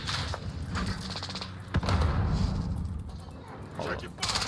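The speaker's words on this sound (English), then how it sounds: "oh, airstrike!" Airstrike explosions and gunfire in a video game: bursts of rapid shots and a heavy thudding blast midway, with rumbling impacts, loud and chaotic, mixed with a voice talking over the action.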